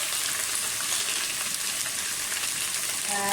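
Garlic ginger paste and whole spices sizzle steadily in hot oil over fried onions for a potato rice dish, a dense, even crackle held close and alone throughout.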